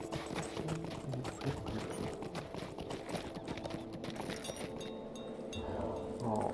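Horse hooves clip-clop steadily at a riding pace in the fantasy online game The Lord of the Rings Online, a continuous rhythmic trot with no speech.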